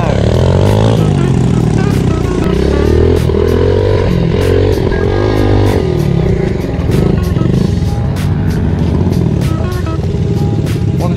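A pit bike engine running nearby, loud continuous motor drone with shifting revs throughout, with voices talking over it.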